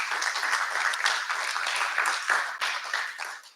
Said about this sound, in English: we can give her a round of applause for the camera